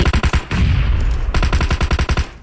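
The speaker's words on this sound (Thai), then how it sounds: "น้องสมูทครับยังคงยิงกดไฟ" Automatic gunfire rattles in PUBG Mobile during a competitive scrim match, two rapid bursts of loud, close shots separated by a short lull with a softer whoosh.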